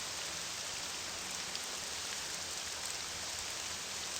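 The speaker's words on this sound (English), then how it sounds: "Balmora looks pretty big, and it's very rainy." Steady rain falls over the town of Balmora in the Morrowind role-playing game, an even, soft hiss of rainfall with no change in intensity and no talking.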